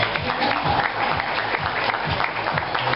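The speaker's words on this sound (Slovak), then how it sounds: "potlesk." Audience at a citizens' gathering in a hall applauding, a brisk dense burst of many hands clapping close by, steady and loud for a few seconds.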